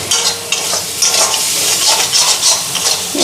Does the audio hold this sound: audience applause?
no